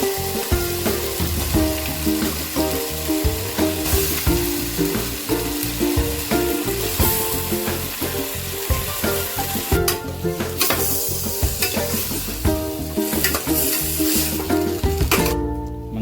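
Freshly marinated chicken sizzles loudly in a pan with ginger paste during village cooking, with a constant crackling fry broken by repeated scraping stirs, close up and without talk.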